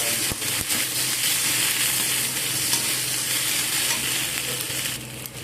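Ginger garlic paste fries in hot oil in a pan for a fish egg dish, giving a dense, steady sizzle with a few sharp scrapes of a spoon near the start.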